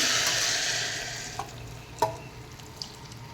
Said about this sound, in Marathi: गरम केलेलं पाणी घालूया